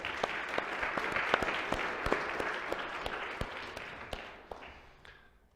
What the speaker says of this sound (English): our moderator, Dan, if we can give him a quick round of applause, that'd be great